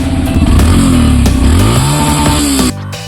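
A Yamaha FZS V3 motorcycle engine running loud and close, with a steady throbbing idle that rises and falls in a couple of short revs before cutting off abruptly near the end.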